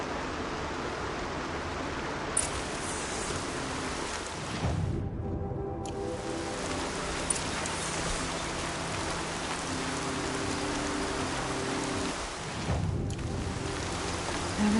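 Steady rain in the video game Horizon falls as a dense, continuous hiss with a brief drop in the highs partway through, and no talk over it.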